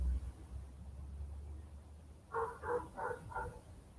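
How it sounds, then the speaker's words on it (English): A neighbor's dog barks four times in quick succession from some distance, fairly faint, after a stretch of low background hum. "That's not my dog. That's the neighbor's dog."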